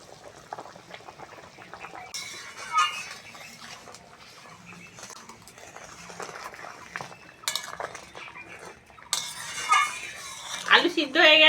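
Tomatoes tipped into a pan of simmering spicy bhola fish curry, with clinks and scrapes of utensils against the pan, a few rattling bursts and a louder clatter near the end, no talking.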